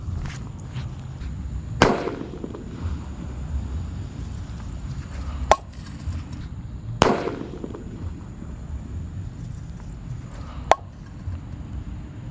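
A purple disco happy flower firecracker goes off under a covered cooking pot, giving sharp muffled bangs at irregular intervals, about four distinct cracks, each followed by a brief rattle, over a low steady background.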